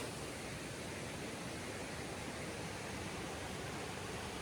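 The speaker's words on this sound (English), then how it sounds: "Mountain Creek." Mountain creek running high after heavy rain, a steady, dense rush of flowing water filling the whole clip, close and unbroken.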